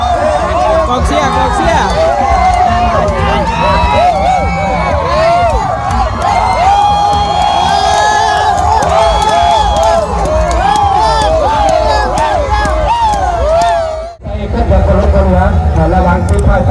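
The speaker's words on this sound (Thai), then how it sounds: "กองเชียร์" A loud crowd cheers and shouts without pause at a boat racing event in Salavan, with dense babble, whoops and voices for most of the stretch, a brief dip near the end, then the roar resumes.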